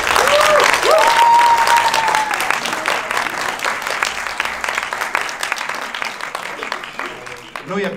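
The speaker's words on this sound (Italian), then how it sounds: "vi prego di accoglierlo con un caloroso applauso" Warm, dense audience applause at a film festival presentation in a theatre, loud at first with a few cheers, then easing gradually while clapping continues across the whole stretch.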